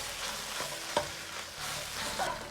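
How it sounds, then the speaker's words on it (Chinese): Minced pork stir-frying in scallion oil in a hot wok, a steady close sizzle with scraping spatula strokes and brief clinks, no talking. "先煸炒出香味"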